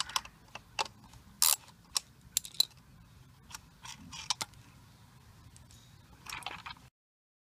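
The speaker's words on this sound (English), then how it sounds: "we're just gonna unbolt this 7/16" Wrench unbolting a 7/16 bolt on a valve, a series of quiet close ratcheting clicks and metallic taps at irregular intervals, no talking.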